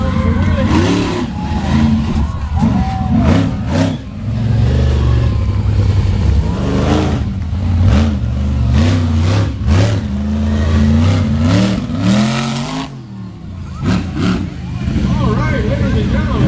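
A monster truck engine roars and revs repeatedly at a county fair freestyle show while the truck rears up and spins on its back tires, loud and close, with an announcer talking over it throughout.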